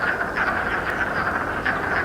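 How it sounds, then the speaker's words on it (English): Spring peeper frogs, small and common local frogs calling in spring for mating, keep up a steady shrill chorus of high peeps, near and continuous, with a few louder individual calls standing out. "we start to hear the call of the spring peeper, which is a small frog that is very common here"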